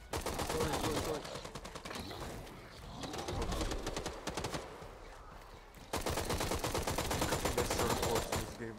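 Rapid gunfire in the video game Hawked, dense repeated shots in two long bursts with a lull between, fairly loud, with faint talking underneath.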